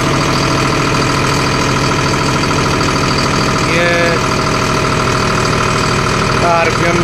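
A John Deere CRDI tractor engine runs at full RPM, a loud, steady, dense drone with a constant rhythmic throb and no audible pauses throughout.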